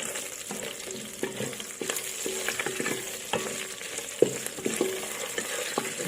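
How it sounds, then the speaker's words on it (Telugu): Whole garam masala spices frying in oil for egg biryani gravy, a faint steady sizzle with scattered small pops and stirring clinks from a utensil in the pan. "ఇప్పుడు ఈ హోల్ గరం మసాలా మొత్తం ఆయిల్లో ఫ్రై చేసుకున్నాం గైస్"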